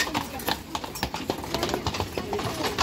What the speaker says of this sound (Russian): Лошадки.